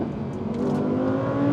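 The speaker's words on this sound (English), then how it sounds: "I think the downshifts are the best in this car though" An Audi R8 V10 Plus engine drops through the gears, heard as a loud, close, steady howl that climbs in revs and swells toward the end.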